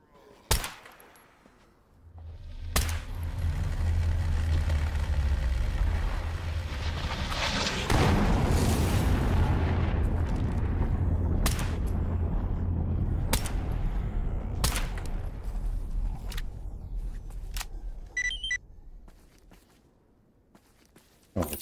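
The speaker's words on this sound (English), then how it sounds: "Let's just use our actual pistol here." Pistol shots in Stalker GAMMA fire as sharp, separate cracks spaced several seconds apart, over a long stretch of loud rumbling ambience that fades out near the end.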